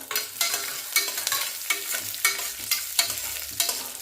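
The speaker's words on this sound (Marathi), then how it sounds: "हे थोडंसं तुपामध्ये फ्राय करून घे" Almonds, cashews and raisins frying in ghee, a crackling sizzle with repeated scraping stirs of a spoon in the pan, steady and close, with no talking.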